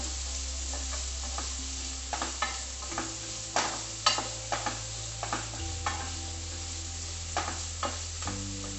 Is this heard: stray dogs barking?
no